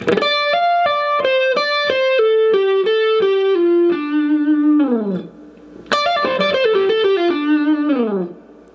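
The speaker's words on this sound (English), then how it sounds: "Bending that up a whole step, then you're going to descend down the scale using hammers and pulls" Distorted electric guitar plays a lick, a quick run of picked and hammered-on, pulled-off notes descending the scale, pausing briefly before repeating the phrase, loud and alone.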